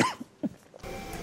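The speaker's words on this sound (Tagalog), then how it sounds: "Inuubo ako." A few short coughs from a person who is ill, close and fairly quiet, spaced irregularly over about a second.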